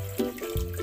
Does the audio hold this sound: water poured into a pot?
yes